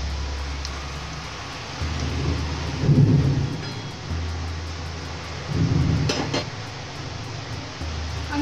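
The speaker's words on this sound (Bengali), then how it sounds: "আমার এখানে বৃষ্টি পড়ছে" Steady rain falls outdoors in a Bengali village while thunder rumbles twice, low and rolling, over the constant patter.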